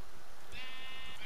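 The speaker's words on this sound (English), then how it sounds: "I really want to kill that sheep" A single sheep bleat in the Minecraft video game, a short wavering baa rising clearly out of quiet background ambience near the end.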